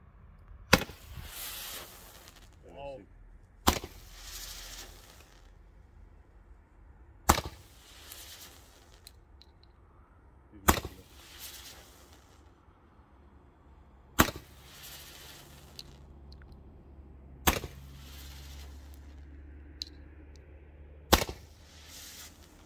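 Blackboxx tail comet fireworks fire one after another, seven sharp loud launch bangs spaced a few seconds apart, each followed by a brief hiss, with no talking.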